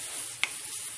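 Dried dates being roasted and stirred in a pan over high heat, with a soft steady sizzle and one brief sharp scrape of the spoon near the middle, fairly quiet.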